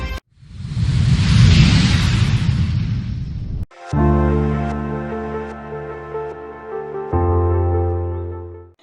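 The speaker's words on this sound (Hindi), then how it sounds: "शहर के हर चौक चौराहों से पटाखे फूटने की आवाज गूंज रही थी।" A loud crackling burst of exploding Diwali firecrackers rages for a few seconds, then cuts off abruptly into a sustained, steady electronic tone with shifting layers.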